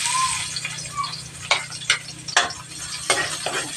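Garlic frying in hot cooking oil for pork adobo, a steady crackling sizzle with a low hum beneath and several louder bursts of stirring or spattering.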